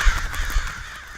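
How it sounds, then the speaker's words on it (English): Crows caw in a quick burst of harsh calls, a flock of several birds heard close and loud, overlapping briefly then fading. "Did she just turn into a flock of crows?"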